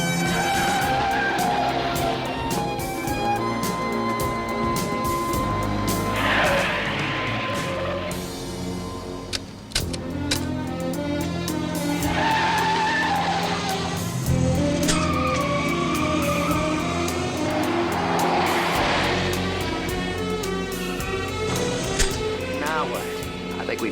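A car driven fast with screeching tire squeals and a revving engine under dramatic music, with people talking over the action throughout.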